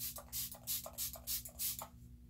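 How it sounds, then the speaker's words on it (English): Several short hissing sprays of MAC Fix+ facial setting spray in quick succession, about six bursts over two seconds, close by over a low steady hum. "Oh, we gotta spray our face."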